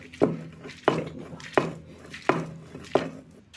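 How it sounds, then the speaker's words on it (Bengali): Long beans chopped with a knife in a home kitchen: five sharp, evenly spaced strikes against a cutting board, close and clear, with a quiet pause between each cut and no talking. "এখন আমি বরবটিটা কেটে নেব।"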